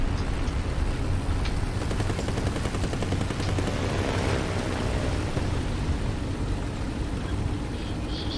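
Dense, continuous rattling gunfire from a strafing aircraft roars over a tank battle at Frozen Pass in War Thunder realistic battles, loud and sustained with engine rumble beneath.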